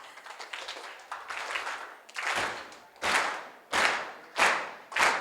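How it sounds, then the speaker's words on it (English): An audience gives a slow clap: scattered claps at first, then loud, synchronized group claps landing roughly every three-quarters of a second, close and building. "So give me the slow clap of all slow claps."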